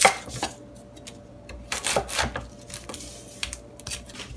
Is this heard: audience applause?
no